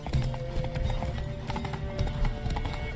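Rhythmic hoof clip-clop of a galloping horse in a race in The Witcher 3 game, steady and close, mixed with other game sounds and a brief snort.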